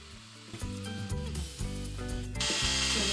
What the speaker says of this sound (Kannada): ಸೊ ಇದನ್ನು ಇವಾಗ ವಿಪ್ ಮಾಡ್ಕೊಳ್ಳೋಣ.